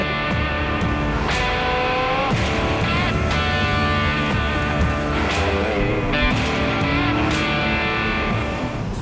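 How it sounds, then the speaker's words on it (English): A carbureted race car engine revs loudly and continuously, pitch rising and falling with sharp throttle blips and a harsh, rasping tone close by. "scream it out, clear out the carburetor"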